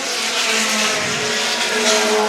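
Mini stock race cars racing at Star Speedway during a feature event, engines roaring loud and close as the cars pass, with a rising and falling whine of revving motors and no talk.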